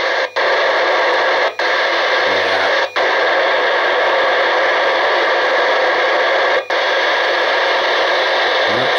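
Loud, steady hiss of open squelch from a Cobra 75 ST EU CB radio, a continuous static wash broken by a few sharp clicks and brief dropouts, with a short low tone near the start.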